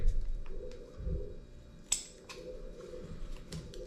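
A few quiet scissor snips at close range trimming adhesive material, with one sharper cut in the middle, against a soft background hum.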